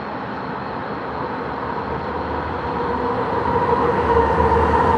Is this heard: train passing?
yes